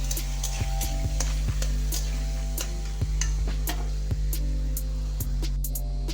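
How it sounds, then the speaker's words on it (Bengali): Finely diced potatoes fry in oil for aloo posto, a low steady sizzle punctuated by repeated sharp clinks and scrapes of stirring against the pan, close up. "এবার তেল দিয়েছি, এটাকে ভেজে নিচ্ছি ভালো করে।"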